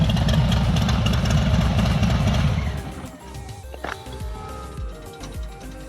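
A customized motorcycle fitted with Thunder Torque inserts shuts off: the loud engine running cuts out, followed by a brief rising whoosh from the air cleaner and scattered faint clicks and ticks as it settles.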